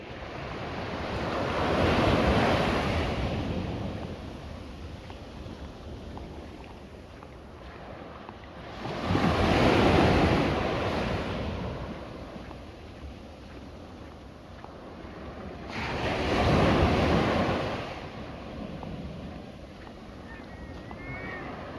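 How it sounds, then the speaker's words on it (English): Waves break on a beach at Buzios, Brazil, in three broad, slow surges of hiss and roar about seven seconds apart, with wind noise between them. "I wouldn't recommend swimming at this beach though."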